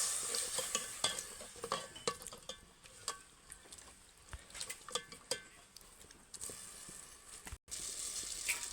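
A spoon scrapes and stirs through a thick, bubbling sev tameta curry with added water in a pan, with irregular clinks and wet sizzling throughout, no voices.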